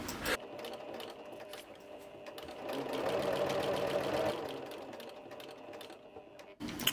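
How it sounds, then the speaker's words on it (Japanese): A sewing machine stitches around a neckline in a fast, even mechanical whirr that builds in the middle and then eases off, with a few quiet clicks and handling sounds at the start and end. No one speaks. "ちょっとね、縫っていきますね。"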